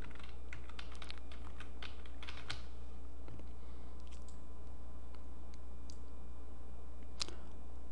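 Computer keyboard typing, clear clicks and key taps in irregular bursts, close and fairly quiet over a constant low electrical hum, with no talking.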